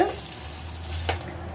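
Corn poha being mixed in a frying pan gives a soft steady sizzle and light stirring scrape, close and fairly quiet, with one brief louder scrape near the end.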